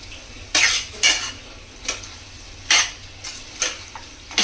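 Keema curry with chilli powder is stirred in a pan, with a spoon scraping and clanking against the metal in about eight separate strokes over a low sizzle.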